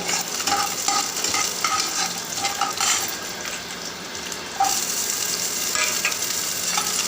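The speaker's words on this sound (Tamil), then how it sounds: "கருவேப்பிலையை சேர்த்துட்டு" Curry leaves crackle and sizzle in hot oil for a Tamil vatha kuzhambu, with steady loud frying and a spoon scraping and stirring through the pan throughout.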